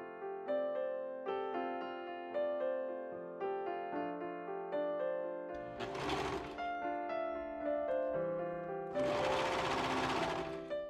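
A sewing machine runs a straight stitch along the front seam of a floral summer top through the fabric and lining layers, with a steady whirring hum and two bursts of louder mechanical rattle.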